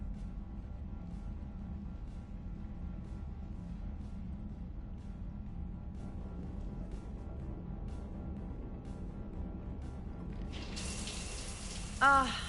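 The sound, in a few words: shower running in video game Mass Effect 3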